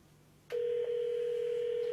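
A telephone dial tone starts abruptly after a short click and then holds as a steady, loud, continuous hum, with faint line noise underneath.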